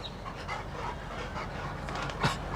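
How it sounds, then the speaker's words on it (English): Dogs pant rapidly and close by in quick rhythmic breaths, with a brief whimper-like yelp near the end. "So you can probably hear the dogs in the background."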